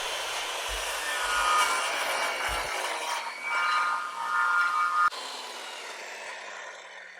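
A power saw rips a lengthwise cut through wood for a router slab-flattening jig, a loud continuous whining cut with a few low thumps early on, ending abruptly before fading to quieter motor hum.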